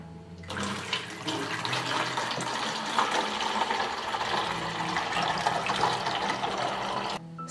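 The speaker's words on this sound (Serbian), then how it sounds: "Rupu na boci zatvorite sa prstom i sipajte vodu u flašu." Water gushes from a bottle through a funnel into a plastic bottle, a steady, close, splashing flow that starts abruptly and cuts off at the end.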